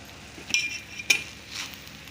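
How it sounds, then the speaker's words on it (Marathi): Khoa balls gently stirred into cooked pulao in a pot: two soft spoon clinks against the metal with light scraping between them, faint and close, with no voices. "आता ह्याच्यात आपण गोळे घालायचे गोळे थंड झालेले आहेत हलवताना मात्र शिस्तीत हलवायचं"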